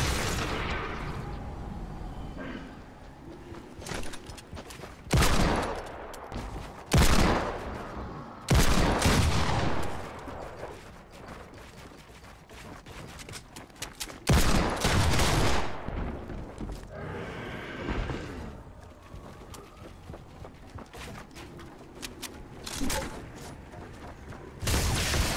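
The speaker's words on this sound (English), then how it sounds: "I hear somebody shooting off over here" Gunfire rings out across a Fortnite match, several loud bursts and cracks with quieter shots scattered between them over a steady game background.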